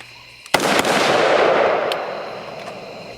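A single loud gunshot from an AR rifle fitted with a PWS CQB compensator, a sharp close crack followed by a long, rolling echo that slowly fades.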